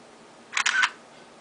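A Sony Ericsson W760a phone camera shutter gives a quick click, a short double snap of mechanical-sounding noise, fairly close and clear against a quiet background.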